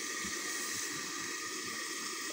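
Water poured into a cooking pan on a home stove, a steady rushing pour that runs without a break, close and fairly loud, with no talking over it.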